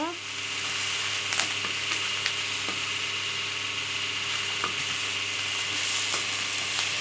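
Greens for ragi rotti sautéing in a pan, a steady close sizzle with occasional scraping stirs and clicks, under a faint background hum.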